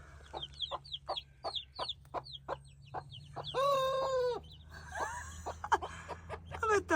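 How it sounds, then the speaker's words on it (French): A rooster trying to crow at a campsite beside a converted van, a series of sharp clucks followed by strained, broken crowing attempts, close and clear with no talk over them. "Ah, il y a le coq qui essaie de chanter,"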